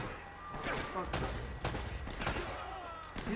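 Gunfire in the video game Uncharted, several sharp shots and bursts scattered across a busy firefight, with voices talking over the shooting.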